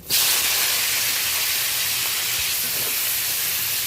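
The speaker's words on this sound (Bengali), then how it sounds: "এই পর্যায়ে আমি কেটে রাখা পেঁয়াজ, টমেটো আর কয়েকটা কাঁচা লঙ্কা আমি আধা চেরা করে রেখেছি, ওটাই দিয়ে দিলাম।" Chopped onion, tomato and slit green chilies hit hot tempered oil in a pan, a sudden loud sizzle that settles into a steady hiss and crackle, close and alone.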